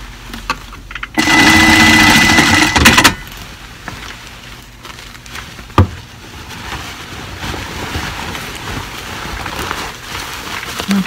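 A sewing machine stitching a zipper on a langha runs in a loud, steady whir for about two seconds, then the motor drops to quieter intermittent running with a sharp knock midway.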